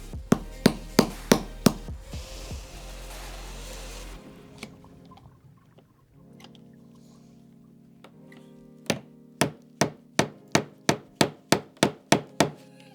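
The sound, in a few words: hammering into a drilled hole in wood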